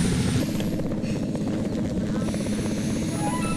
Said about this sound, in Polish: No i helikopter przyleciał